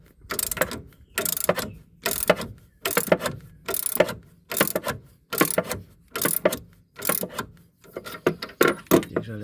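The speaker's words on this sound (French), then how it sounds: "Douille de 22, du moins, vous serrez en force" A ratchet socket wrench with a 22 mm socket tightens a nut firmly on a Renault Twingo, making a series of about ten loud, close, regular bursts of rapid clicking separated by brief pauses as the handle swings back and forth.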